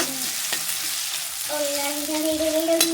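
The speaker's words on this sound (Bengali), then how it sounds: "এখানে দেখুন পেঁয়াজটা আমি ভাজা ভাজা করে নেব।" Chopped onion and green chilli frying in oil with two dried red chillies, a steady close sizzle with occasional stirring scrapes and a brief tonal ring near the middle.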